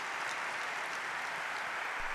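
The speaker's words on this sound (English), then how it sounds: "A big round of applause for the New York Jets as they head to the exits." A luncheon audience applauds the New York Jets players as they leave, giving a steady, dense, fairly quiet round of clapping with no talk over it.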